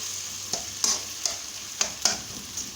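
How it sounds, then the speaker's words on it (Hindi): A spoon stirs makhandi halwa in a pan while it sizzles faintly, with sharp metallic scrapes landing every half second or so over the soft frying hiss. "चम्मच को बस हिलाते रहना है"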